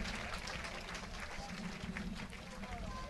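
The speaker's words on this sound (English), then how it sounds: "everybody in the stands is giving her the much-deserved applause" Spectators in the stands at a girls' high school soccer championship applaud an injured player being helped off the field, a steady, fairly quiet patter of clapping spread across the crowd with a low hum beneath it.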